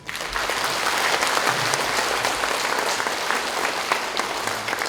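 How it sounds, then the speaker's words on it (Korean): A large audience at a Korean Confucian leaders' convention claps together in a dense, steady, loud wash of hand claps lasting the full five seconds, with no speech over it. "저를 위해서가 아니고 여러분 자신을 위해서 박수 한번 해보세요."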